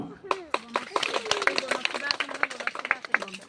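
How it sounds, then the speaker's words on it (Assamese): An audience claps at a school ceremony, a brisk run of sharp, scattered hand claps from a modest group, fairly close, beginning together and loosening into uneven claps over a few seconds. "সকলোৱে হাত চাপৰি বজাব"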